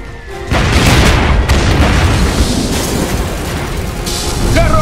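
Artillery blasts roar through a battlefield in the strategy game Iron Harvest, a heavy sustained rumbling boom that sets in abruptly and rolls on loudly, with a brief voice near the end.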